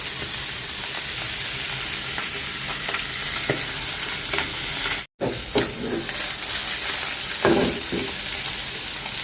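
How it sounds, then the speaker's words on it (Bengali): Puti fish frying in a little oil, a steady close sizzle with scattered spatters and stirring scrapes, broken by a brief gap of silence midway. "পুঁটি একটু মানে না ভাজলে ভালো লাগে না সেজন্য একটু অল্প তেলেই ভাজি নিচ্ছি"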